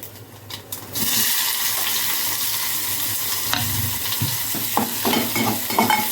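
Onion sizzling with cumin seeds in a spoonful of hot oil, steady frying hiss with a few stirring scrapes and clatters near the end, no talking.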